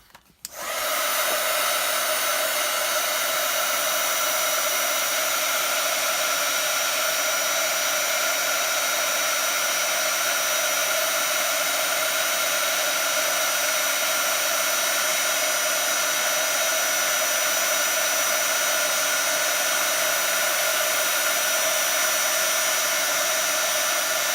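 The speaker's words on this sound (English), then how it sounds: "I'm going to heat emboss this now and watch it go" A heat gun melts embossing powder on a stamped card, a steady loud blowing whir that starts abruptly after a brief click and runs unbroken to the end.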